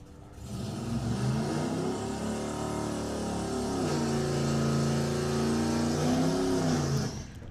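A Chevrolet Camaro drag car, a car-swap entry in a drag racing qualifying session, accelerates hard down the strip, its engine note climbing steadily and staying loud and close for several seconds before cutting off.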